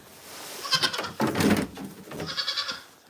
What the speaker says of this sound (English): I feel like I have too many goats right now